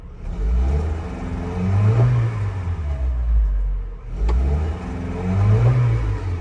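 A 1995 Geo Tracker engine revs up in two rising-and-falling sweeps, wavering and hesitating as it climbs, with a short drop between the revs, loud and close with no talking.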